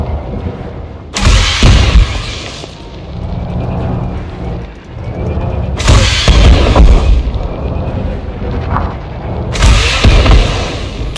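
Three heavy booming explosions of target ships destroyed in the space game Elite Dangerous Odyssey, each a loud low blast that rumbles and fades into a continuous droning background.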